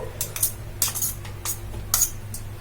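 Coarsely ground lentil and rice mixture is scraped into a mixing bowl, giving a few scattered metallic clinks and light scraping taps of a utensil against the bowl in a quiet kitchen.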